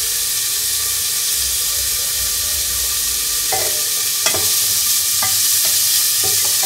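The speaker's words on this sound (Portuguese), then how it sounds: "Aí eu vou deixar fritando bem fritinho aqui." Bacon frying in a pan with butter, a dense, loud, continuous sizzle and hiss with a few sharp pops and crackles scattered through it.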